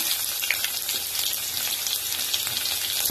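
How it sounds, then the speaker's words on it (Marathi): Mustard seeds, cumin and garlic sizzle in hot oil, a close, dense crackling hiss with scattered sharp pops over a few seconds. "तेल तापलेलं आहे. थोडासा मी मोहरी टाकणार, जिरा टाकणार, लसूण टाकलाय"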